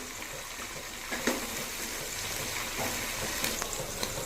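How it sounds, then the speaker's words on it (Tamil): Onions with mint and coriander leaves sautéing in a pan while preparing mutton biryani: a low, steady hiss of cooking with occasional spoon taps and scrapes against the pan, quiet and with no talking. "புதினா மல்லி வெங்காயம் எல்லாம் நல்லா வதங்கி சுருண்டு வரும் இப்போ அது வரைக்கும் நம்ம வதக்கிக்கலாம்"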